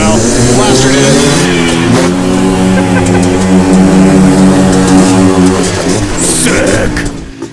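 Midsize quad ATVs race on a dirt Monster Jam–style track, engines droning and revving with rising and falling whine as riders pull wheelies, loud and continuous under excited commentary.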